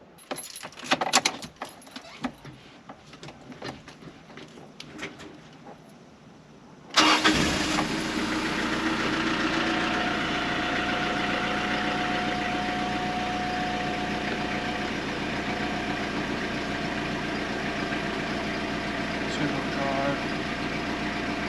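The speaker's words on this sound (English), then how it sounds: "I think I've got to start the engine up to actually move it." A pickup truck's engine cranks and catches at about seven seconds, then idles steadily and close for the rest of the clip, after earlier handling noises and a voice speaking.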